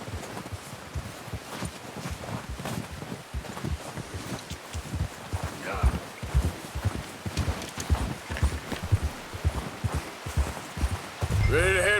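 A horse ridden in Red Dead Redemption 2 clip-clops along in a steady rhythmic gait, loud and close. Faint rustling and wind run underneath, and a brief vocal sound comes near the end.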